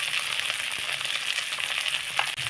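A spice mixture with tomato fries in a pan while being stirred, giving a steady bright sizzle with a few soft scraping knocks, close and moderately loud, alone without talk.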